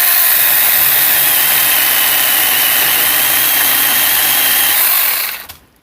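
An inexpensive Chinese-made chainsaw cutting wood runs loud and close in a sustained high-pitched whine, then cuts off abruptly and winds down near the end.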